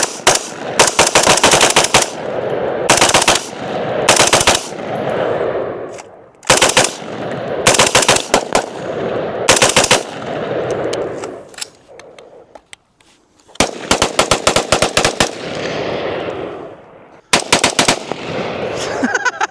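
Automatic firearm fired in rapid bursts out in the Arizona desert, loud close cracking volleys repeating in several separate strings with short pauses between them.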